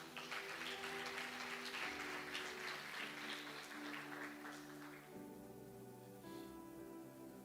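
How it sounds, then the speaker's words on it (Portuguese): Church congregation applauds during a sermon, a broad steady wash of many hands clapping over sustained organ or keyboard tones, fading somewhat toward the end. "Vamos aplaudir Jesus?"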